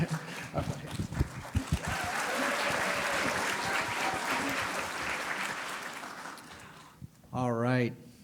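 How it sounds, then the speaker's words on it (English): A commencement ceremony audience claps and cheers in a broad sustained wave after a few scattered early claps, fading out before someone briefly speaks over a microphone at the end. "a big round of applause for Donta Johnson, who is navigating this hazardous stage"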